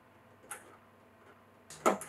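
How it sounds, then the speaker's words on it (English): A CO2 canister being screwed into a 5L mini keg home beer pump gives a faint click near the start, then a sharper, louder crack at the end as it seats, with quiet room hiss between. "we're screwing till we hear that noise of it cracking at the end."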